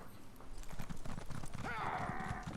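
Horse hooves clip-clop steadily on the ground in The Elder Scrolls Online, with a brief neigh partway through, close and moderately loud over ambient game sound.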